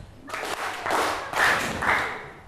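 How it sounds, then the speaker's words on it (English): Three distinct, fairly soft rounds of group clapping from a classroom of students, each a brief burst of many hands together, evenly spaced over a couple of seconds. "let's give Ruthie 3 big claps"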